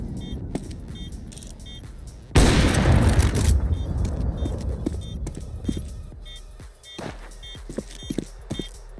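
A grenade explosion in a video game, one loud sudden blast with a rumbling roar that fades over about a second, followed by scattered clicks, footsteps and faint game beeps.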